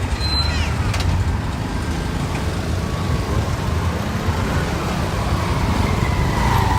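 Dense street traffic in Phnom Penh, Cambodia, with cars and motorbikes weaving past, forms a continuous loud roar of engines and tyre noise with no break.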